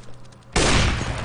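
A single sharp, loud sniper rifle shot from CS:GO cracks out abruptly after a quiet moment, followed by a short, noisy ringing decay.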